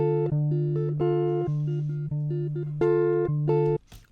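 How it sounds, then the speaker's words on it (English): A guitar processed with effects plugins plays a loose, unquantized line of bright, synth-like plucked notes with clear pitch shifts, loud and close with no talking. "With that effects, the guitar sounds like this."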